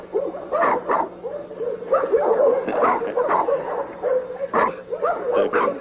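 A six-year-old dog barks and yips in short bursts mixed with whimpering, close and moderately loud, with a person speaking intermittently.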